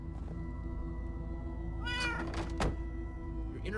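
A cat meows inside the Minecraft Story Mode video game, a few clear mid-pitched calls near the middle of the clip, with a soft thunk, over steady game background music.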